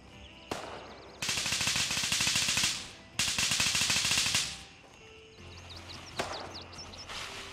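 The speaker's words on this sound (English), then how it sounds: "He's using some sort of SMG." SMG gunfire in the video game Grayzone Warfare: two long, loud automatic bursts of rapid shots with short gaps between them, followed by scattered single shots and quieter background noise.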